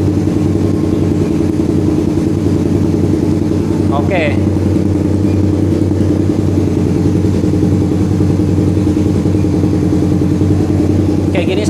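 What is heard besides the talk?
motorcycle aftermarket exhaust revving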